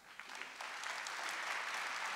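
Audience applause at a Portuguese-language religious gathering: steady, dense clapping from a crowd, fairly faint and distant, swelling slightly and holding for about two seconds.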